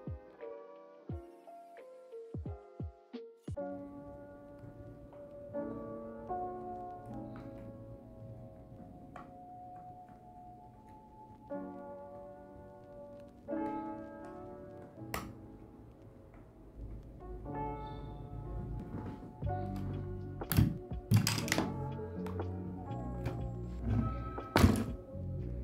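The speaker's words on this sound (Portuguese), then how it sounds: "vocês já conseguem sentir mais ou menos como está o som do teclado" Typing on a Machenike mechanical keyboard fitted with Gateron Black G Pro 3.0 switches and EVA foam in the case, giving scattered deep thocking keystrokes, close and fairly quiet, over steady background music.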